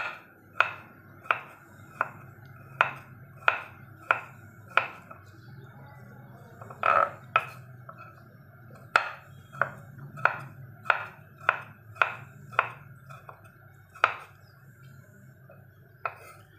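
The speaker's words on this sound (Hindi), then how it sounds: "इसको हम कट कर लेंगे छोटे छोटे पीस में।" A knife chops watermelon rind into small pieces on a board, a steady run of crisp, close, evenly spaced cuts with a brief double strike midway, mostly alone in a quiet room.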